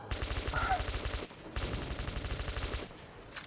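Rapid automatic gunfire rattles in two sustained bursts from a first-person shooter set in post-apocalyptic Metro 2033 tunnels, loud and close with a brief gap between volleys.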